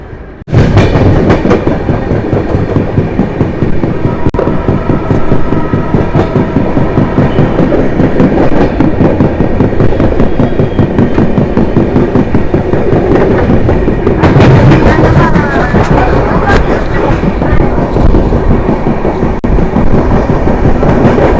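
Kerala Sampark Kranti Express running on its tracks, a loud steady rumble with rhythmic clickety-clack of wheels over rail joints continuing throughout, no voices.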